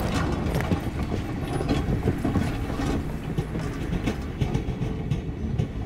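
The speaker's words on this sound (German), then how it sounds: "der Zug ist jetzt aber verdammt schnell" A fast-moving train in the video game Voidtrain rumbles loudly and continuously, with rhythmic clattering and mechanical rattles over a dense low roar, no talk.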